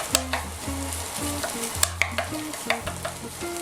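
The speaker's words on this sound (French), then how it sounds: "un peu de tomate concentrée. Je vais la faire griller un petit peu" Tomato paste fries and sizzles in a pan for monkfish à l'armoricaine, with a steady close hiss broken by repeated stirring scrapes and clinks.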